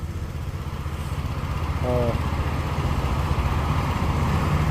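A Honda XDV250 motorcycle with stock exhaust idling with a steady, low rumble throughout, even and continuous, fairly close, with no voices.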